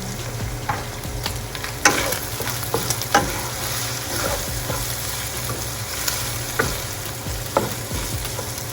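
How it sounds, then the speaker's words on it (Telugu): Chicken fries in a pan as turmeric and chili are stirred in, a steady close sizzle punctuated by several sharp scraping clicks of the spatula. "అండ్ ఇప్పుడు మనం కొంచెం పసుపు, కొంచెం కారం వేసి బాగా కలుపుకుందాం."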